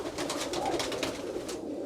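A pigeon coos softly and steadily on a roof, a low continuous burbling call heard alone at moderate distance.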